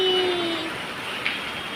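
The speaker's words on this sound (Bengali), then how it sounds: "দেখো কেমন বৃষ্টি" Steady rain hisses in a broad wash, with a faint tone fading early on and a single brief tap partway through.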